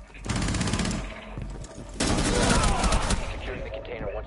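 Rapid gunfire in a PS4 video game, two loud bursts of machine-gun-like fire with crackling echoes, close and dominant, the second burst longer and heavier.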